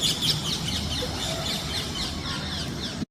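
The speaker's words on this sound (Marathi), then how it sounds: "पोपट मात्र सकाळ संध्याकाळ येत राहतात आणि त्यांचा कालवा खूप असतो" Parrots calling at a home during the monsoon season: a dense, shrill chatter of many birds, continuous and fairly loud over steady background hiss.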